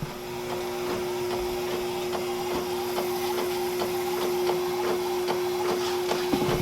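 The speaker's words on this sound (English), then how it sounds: "It's printing a little bit slow." A sublimation printer printing a mug design runs steadily with a constant hum and a regular series of soft mechanical clicks as the print head moves, close and continuous with no talk.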